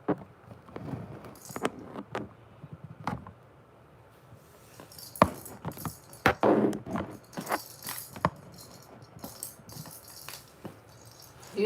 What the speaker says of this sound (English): You got some keys.